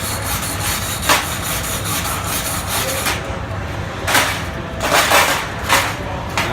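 A wire brush scrubs a stick-welded steel butt weld clean with steady, close, rasping back-and-forth strokes, louder bursts of scrubbing recurring every second or so.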